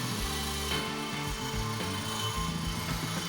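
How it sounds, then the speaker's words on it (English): A power drill fitted with a wire brush bit scrubs old mountain bike wheels during an early-90s MTB restoration, giving a continuous close, loud whirring and grinding rasp with shifting tones throughout. "I'm using the drill."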